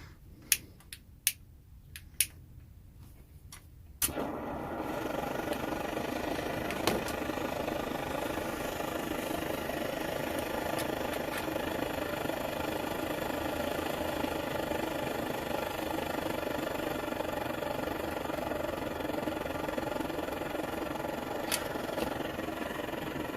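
An Optimus 99 knock-off trail stove burns with a steady, loud roaring rush that holds without a break, after a few sharp clicks or snaps in the first seconds.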